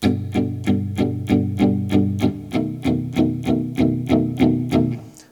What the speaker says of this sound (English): Now if I keep the palm mute locked in place, we're going to get pretty even strums,